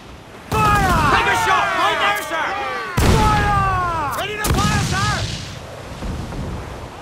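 Ship cannons boom in Assassin's Creed 4 Black Flag, a loud blast at the start and another near three seconds, each followed by ringing decay, with a voice shouting over the gunfire.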